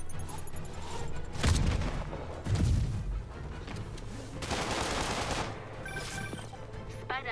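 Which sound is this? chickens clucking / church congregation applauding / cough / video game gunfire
video game gunfire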